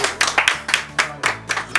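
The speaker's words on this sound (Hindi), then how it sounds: "तालियां कहाँ है?" Rhythmic clapping at an award ceremony, several hands striking together in uneven bursts about every quarter second, fairly close and loud, with a faint low musical hum underneath.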